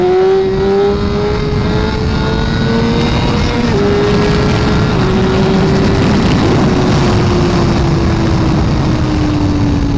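A Suzuki GSX-R1000R sport motorcycle rides out toward a Texas ghost town, its engine holding a loud, steady high-revving drone that climbs slightly in pitch, close and continuous with no talking.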